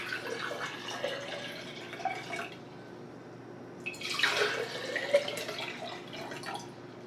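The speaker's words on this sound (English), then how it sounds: "I got my jars and I filled them with water." Water poured into two glass jars, running and splashing in bursts with a brief pause between pours, close and clear with no talk.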